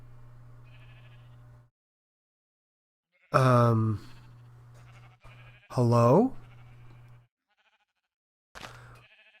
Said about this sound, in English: Where are two of my brown sheep?